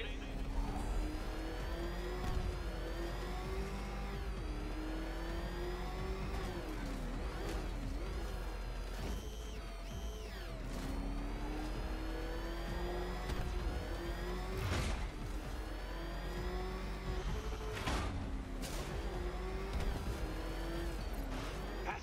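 The Batmobile engine in the video game Batman Arkham Knight, revving and surging with repeated rising and falling pitch sweeps, loud and continuous over a constant low rumble, with a voice talking over it at times.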